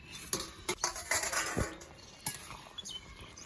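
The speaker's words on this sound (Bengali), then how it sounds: "আমি এবার ঢাকনাটা উঠিয়ে নিচ্ছি।" A metal lid comes off a pot of simmering Malabar spinach stems and pumpkin with a few quiet clinks and clatters, then faint steam hiss beneath, all close and soft.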